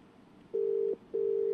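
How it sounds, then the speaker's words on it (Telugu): Telephone ringback tone for a call placed to an MLA's phone, two steady electronic beeps of equal length separated by a short gap, clear and alone over faint line hiss. "ఆ ఫోన్ రింగ్ అవుతూ ఉంది."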